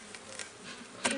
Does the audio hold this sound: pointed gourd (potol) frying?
no